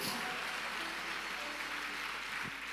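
A church congregation applauds steadily throughout, a dense, even wash of clapping with no pauses or isolated claps.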